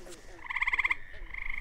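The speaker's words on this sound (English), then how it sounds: "frogs and toads." Frogs and toads croaking at night at Cape Cod National Seashore in spring, a rapid rhythmic trilling pulse up close, repeating in a burst then continuing more softly, with no talk.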